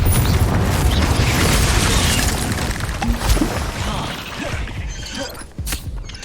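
A Confringo blasting spell explodes in the magic action game Hogwarts Legacy, a loud, sustained roar of blast and crackling debris that slowly eases off, with sharper bangs near the end.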